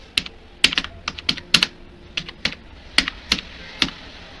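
Keys clatter on a computer keyboard while someone fills in an online admission form, with irregular bursts of crisp taps and short pauses between them, close and fairly quiet.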